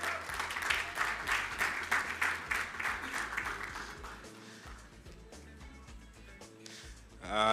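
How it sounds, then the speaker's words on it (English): Audience applause at a debate finals event as a guest blogger and poet is introduced, a steady rapid clapping that stays loud for several seconds, then thins and fades toward the end. "Round of applause."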